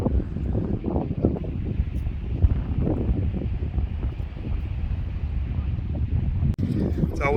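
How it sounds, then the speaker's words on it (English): Strong wind on a beach buffets a phone microphone with constant, loud low rumbling and gusty bursts, almost burying a person speaking underneath. "It is very windy, so apologies for that"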